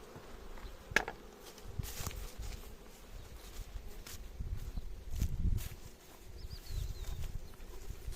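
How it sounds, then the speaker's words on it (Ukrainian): Honey bees shaken off hive frames into a hive while the nest is being set up: a faint, steady buzzing, with a few dull knocks and bumps from the frames and boxes nearby. "залишилось трусити ту бджолу сюди"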